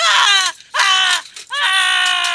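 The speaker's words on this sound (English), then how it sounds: "A succession of loud and shrill screams bursting suddenly from the throat of the chained form seemed to thrust me" Three loud, shrill human screams in quick succession, each a harsh piercing cry with short gaps between, close and alone as a dramatic sound effect.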